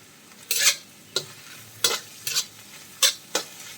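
Sliced okra stirred in a hot pan for a Kerala vendakka mezhukkupuratti, six sharp scraping, sizzling strokes at irregular intervals over a low steady fry, close and fairly loud.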